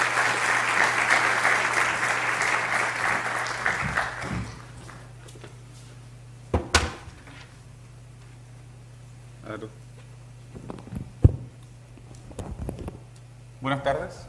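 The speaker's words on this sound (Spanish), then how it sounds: "Recibámoslos con un aplauso," Audience at the Faculty of Economics, University of Chile, applauding to welcome a speaker: a dense burst of clapping for about four seconds that stops abruptly, leaving a quiet hall with low hum and a few scattered knocks.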